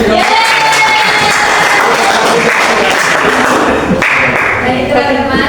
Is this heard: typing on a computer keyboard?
no